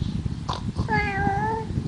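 A voice imitates a cat meowing, a single drawn-out, rising and falling meow close to the microphone, preceded by brief murmuring over steady low background noise.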